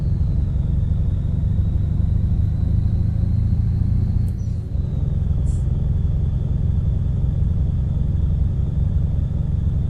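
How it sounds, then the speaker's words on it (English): A DAF heavy truck engine in Euro Truck Simulator 2 rumbles steadily at idle at a fuel station, deep and continuous, with a faint high whine above it and a brief shift partway through. "Love the sound of this DAF."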